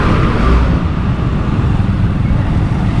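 Road traffic in a Philippine town, a dense steady rumble of engines close by with no clear individual passes, continuous and loud throughout.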